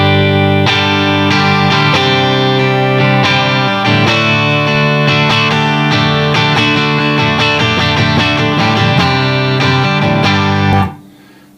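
An electric guitar is played through a Blackstar Amped 1 set to its clean American Fender-style amp model, strummed chords ringing bright and full for about eleven seconds before stopping abruptly, with no talking.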